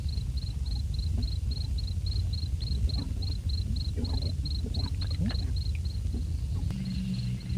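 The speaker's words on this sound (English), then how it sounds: "the only noise that's happening are like crickets" Crickets chirp in a steady, evenly spaced pulse over a low hum and faint rumbling, forming the sparse soundtrack of the 1990 experimental film Begotten, with the chirping running unbroken and a brief break near the end.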